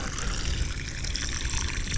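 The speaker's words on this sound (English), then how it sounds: "just get your hose bib, turn that on, and give them a generous" Water runs steadily from a garden hose bib, soaking a pair of motorcycle work gloves outdoors, making a constant loud splashing rush throughout.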